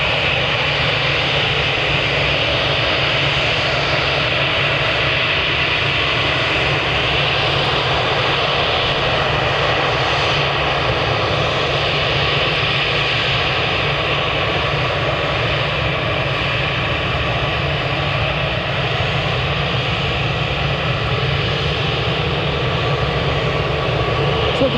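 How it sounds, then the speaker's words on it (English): An EasyJet airliner's jet engines roar steadily at Manchester Airport, a loud, continuous broadband rumble with a high whine that holds for the whole stretch, with no voices. "We've also got an EasyJet heading out."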